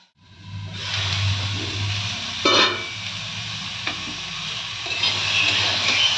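Mixed vegetables and dalia (broken wheat) fry in a pan, giving a continuous close sizzling hiss with a couple of brief stirring scrapes and no talk.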